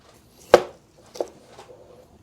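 A knife cuts through smoked baby back ribs on a board beside a PK grill: one sharp chop, then a second softer cut, close and isolated in quiet.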